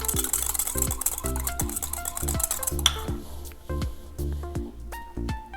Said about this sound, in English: I'm just going to whisk that up and then add more broth